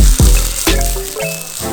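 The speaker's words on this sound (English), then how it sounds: "put your grated coconut and your chopped onion, like long chopped onion, into a frying pan and roast it" Close, steady sizzling of grated coconut and chopped onion roasting in a frying pan, with a few sharp clinks and scrapes from a utensil partway through.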